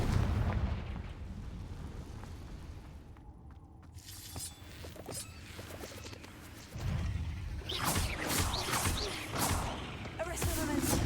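Fire-spell blasts in the Hogwarts Legacy video game: booming explosive bursts with whooshing, crackling impacts, repeated and growing denser toward the end over a rumbling combat backdrop, with voices shouting among them.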